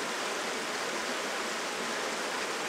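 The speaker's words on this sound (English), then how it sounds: "lie here in a hammock beside a perfectly clear, quickly running mountain trout stream" A clear, fast-running mountain trout stream near Salem, Virginia rushes in a steady, dense wash of water over rocks, close and continuous with no voices.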